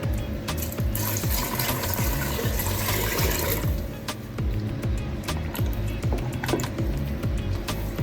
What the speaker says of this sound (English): Need some more water.